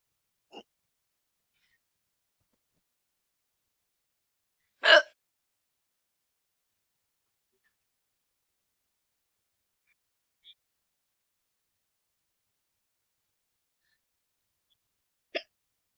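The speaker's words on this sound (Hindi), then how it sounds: "अभी तो मंद मंद हिचकी आ रही है।" A person gives isolated, faint hiccups, with a few brief catches spaced widely across mostly silent stretches and one stronger, sharper hiccup in the middle.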